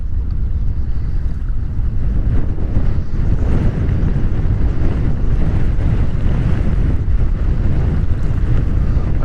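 Strong wind roars and buffets the microphone steadily near the water on a fishing trip at Bird Island, with waves and surf churning underneath, loud and continuous throughout with no talking.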